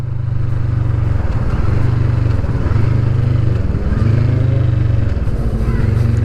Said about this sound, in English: the noise on overrun from this exhaust, listen to that